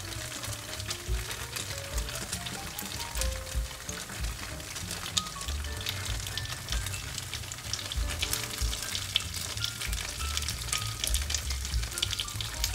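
Gyoza pan-frying with sesame oil, a dense continuous crackling sizzle with popping spatter, close and steady throughout, faint rain-like patter in the hiss.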